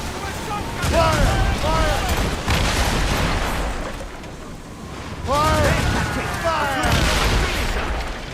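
Ship cannons boom in an Assassin's Creed Rogue naval battle, heavy loud blasts arriving in two clusters, with shouted voices and crew chatter between and over the firing.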